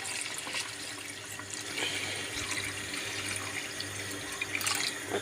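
Water added to chicken frying in a pan for an Algerian chicken and artichoke stew gives a continuous watery sizzle and hiss, steady and fairly faint, with no talk.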